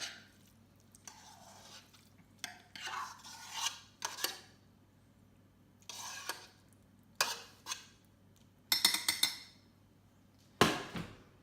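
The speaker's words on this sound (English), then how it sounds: "We just scoop this rice out into here." A spoon scrapes and scoops cooked rice into a dish, quiet intermittent rasping and clinking strokes spaced a second or two apart, close up with no talking.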